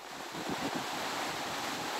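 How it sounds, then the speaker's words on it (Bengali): Rough sea surf roars in a dense, continuous wash, with heavy wind buffeting the microphone. No voices are heard. "ঝোড়ো বাতাসে উত্তাল সমুদ্র পারে আছড়ে পড়ছে বিশাল ঢেউ"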